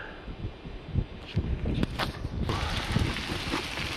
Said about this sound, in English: Still very windy, but unfortunately the wind's coming with us